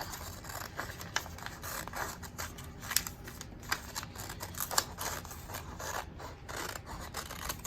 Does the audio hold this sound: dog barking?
no